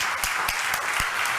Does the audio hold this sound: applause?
yes